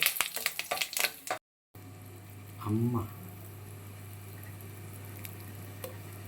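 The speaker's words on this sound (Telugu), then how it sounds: "దంచిన 2 వెల్లుల్లి రెమ్మలు, ఎండుమిర్చి, పచ్చిశనగపప్పు, సాయమినపప్పు, ఆవాలు, అలాగే కొంచెం కరివేపాకు అయితే వేసుకుని తాలింపు అయితే వేసుకోవాలి" A tadka of crushed garlic, dried red chillies, chana dal, urad dal, mustard seeds and curry leaves crackles in hot oil for chutney, a busy crackle at first, then a steady close frying hiss with a low hum and a brief voice.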